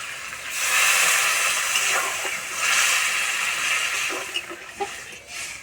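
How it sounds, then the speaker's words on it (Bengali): Water poured into a hot pan of potatoes sets off a loud, close hiss of steam and sizzling that swells, fades and swells again, ending in a few pops and spits, with no talking. "আলু সিদ্ধ হওয়ার জন্য জল দিয়ে দেবো"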